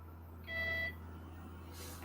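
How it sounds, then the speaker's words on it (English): An old Osborne computer gives a single short electronic beep as it is switched on, a clean tone lasting under half a second over a constant low mains hum. "There was a beep."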